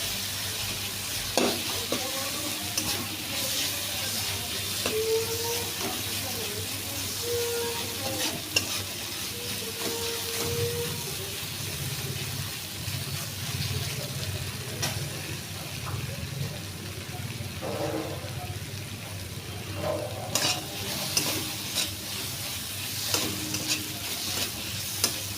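Mushroom curry with tomato ketchup being stirred in a frying pan over a gas flame, steady sizzling and frying under repeated scraping strokes of the spoon, with occasional louder clatters.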